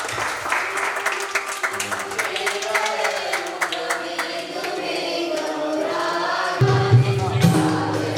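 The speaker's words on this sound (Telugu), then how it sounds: "చప్పట్లు కొడదామండి." A church congregation claps together during a new church dedication service in Kurnool, dense sustained applause running throughout with singing or music and voices mixed underneath.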